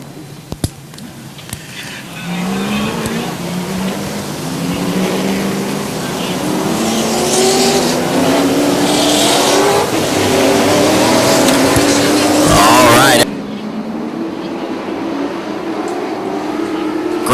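Super late model race cars roar around a short oval track as the green flag drops, engines droning loudly with pitch rising and falling as they pass, then cutting off abruptly near the end.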